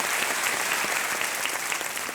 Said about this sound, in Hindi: एक बार फिर तालियां बज जाएं बीना जी के लिए।